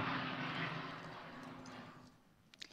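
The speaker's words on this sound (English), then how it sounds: "That was the noise of an airplane." A loud four-engine commercial airplane roars overhead near JFK airport, heard through an open balcony door, its engine rumble fading steadily over a few seconds, with a couple of faint clicks at the end.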